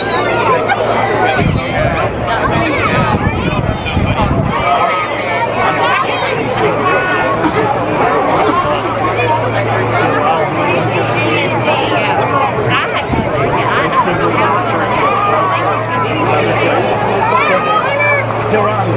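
Large crowd lining a street in downtown Springfield, Kentucky, for a Budweiser Clydesdales parade, a constant loud murmur of many voices with a steady low hum beneath and someone talking close over it.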